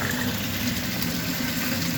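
Submersible sump pump running flat out, pushing water up a 2-inch pipe with a check valve, a steady loud churning and gushing of water with a constant motor drone, no pauses.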